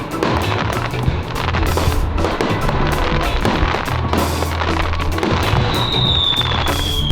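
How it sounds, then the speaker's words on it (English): Free twenty-minute fireworks display at a campsite near Mount Fuji, Japan, with dense continuous crackling and booming bursts filling the air, steady and loud throughout, and a rising whistle near the end. "here it seems they go hard when it comes to fireworks"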